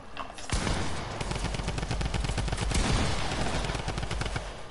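Rapid rifle gunfire from a video game, a dense, steady stream of sharp shots that starts abruptly and keeps firing close and loud for several seconds with no talk over it.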